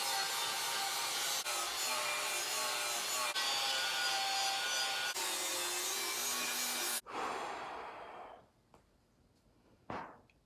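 Grinder stripping mill scale off a steel frame on a 1955 Chevy truck for boxing plates, a loud steady abrasive rasp for about seven seconds that cuts off, followed by fading noise and a final brief scrape.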